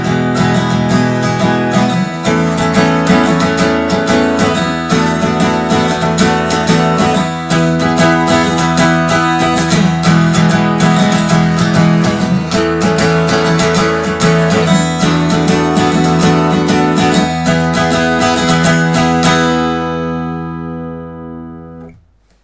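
Freshman Songwriter acoustic guitar strung with old D'Addario strings, strummed steadily and loudly for about twenty seconds in dense rhythmic chords before the final chord rings out and fades.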